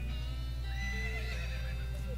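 A horse whinnies in the Western game West of Loathing, a quavering high neigh over a steady low hum, with faint hoof clip-clop.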